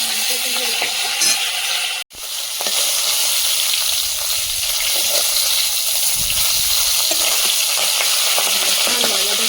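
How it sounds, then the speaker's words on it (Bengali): Tengra fish fry in hot oil that splutters and crackles loudly and continuously, close up, with one brief drop-out partway through. "আচ্ছা, ফাটছে, দেখো সাবধানে, হাতে পাতে তেল না লেগে যায়। প্রচন্ড জোরে ফাটছে।"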